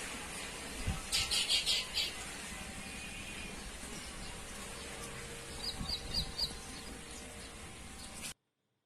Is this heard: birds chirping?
yes